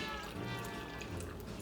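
Warm water runs into a two-cup measuring cup in a kitchen, a soft, brief gurgling pour with a rising bubbly tone, quiet and close.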